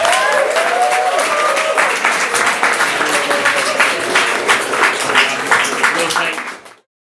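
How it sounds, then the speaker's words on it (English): Audience applause at a student JCR hustings: a room full of people clapping steadily and fairly loudly for several seconds before it stops abruptly at the end. "round of applause for the 4 services candidates."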